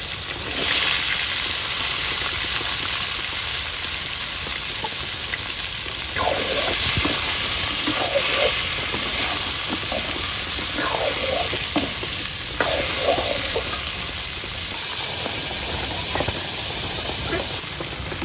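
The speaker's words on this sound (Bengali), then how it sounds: "মাছ যে তেলে মাছ ভাজা করছি ওই তেলে এখন হচ্ছে যে দিয়ে দিচ্ছি পটল আর আলুগুলো।" Pointed gourd and potato pieces sizzle steadily in hot oil previously used to fry fish, village cooking, a continuous close hiss with occasional stirring scrapes.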